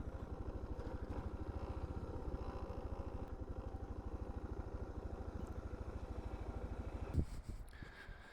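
A 1200 adventure motorcycle fitted with a 21-inch front wheel idles steadily nearby in the Australian outback, a continuous low rhythmic engine throb that holds for about seven seconds before a sudden bump and a quieter tail.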